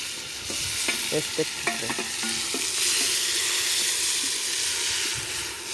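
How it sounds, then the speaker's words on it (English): Onions and tomatoes fry in a pan over a village cooking fire, a steady loud sizzle and hiss with brief stirring clicks early on, no talking over it. "Fry onions until they are brown, golden brown"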